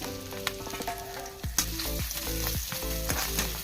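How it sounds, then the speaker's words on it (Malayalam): Onions sizzle and crackle in hot coconut oil in a pan, a steady close frying hiss with a few sharp clinks and stirring knocks, no voices. "പാൻ ചൂടായി വെളിച്ചെണ്ണ വെച്ച് കുറച്ച് സവാള ഇടാം."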